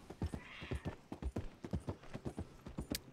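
Horse hooves clip-clop in a quick, steady rhythm in the video game Red Dead Redemption 2, close and fairly loud, with no voices over them.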